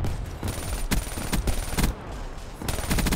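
Video game gunfire in Black Ops 3: dense, loud bursts of automatic weapon fire and heavy shotgun-like blasts rattle in quick clusters across the whole moment, with brief lulls between volleys and no talking.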